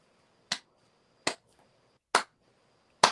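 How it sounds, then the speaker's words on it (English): Four sharp, isolated claps spaced slowly and evenly about a second apart, a deliberate slow clap heard alone with quiet gaps between. "Slow clap."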